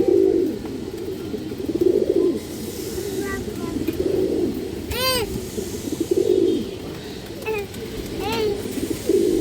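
Muslodom pigeons coo in repeated low, throaty rolls at close range, several calls spaced a second or two apart, with a person talking at times and a few sharp chirps mixed in.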